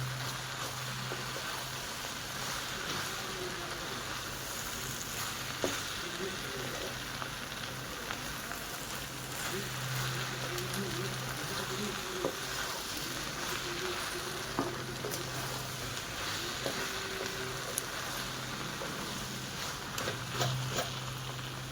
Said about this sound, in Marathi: थोडं मिक्स करून घेऊया.